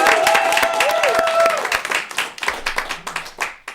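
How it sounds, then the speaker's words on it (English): Audience at an improv comedy show claps and applauds, with scattered cheering voices; the clapping is dense at first, then thins into individual claps that fade out. "let's give a big round of applause for Steve, the creator of the"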